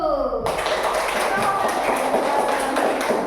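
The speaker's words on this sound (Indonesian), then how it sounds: "coba tepuk tangan dulu" A class of students in an Indonesian teaching-practice lesson claps hands together in a lively, busy patter of many taps, fairly near and continuous after a brief voice at the start.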